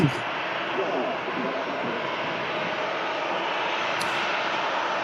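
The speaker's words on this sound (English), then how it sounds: "Lufthansa on the roll out to Munich." A Lufthansa airliner rolls out for departure at Manchester Airport, its steady broadband engine roar sustained and fairly even throughout, heard from a distance with faint voices mixed in.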